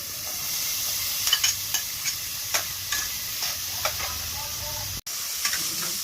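Tomatoes dropped into a hot pot for boiled pork bone soup (nilagang buto-buto), a steady bright sizzle with scattered light stirring clicks and taps, close and continuous, no one talking.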